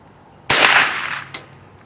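A Ruger 10/22 rifle fires one shot of bulk ammunition at a 25-yard range, a sudden loud crack followed by a short decaying echo and faint trailing clicks.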